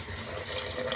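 Water pouring onto soaked rice, a steady close splash and trickle lasting about a second with no voices.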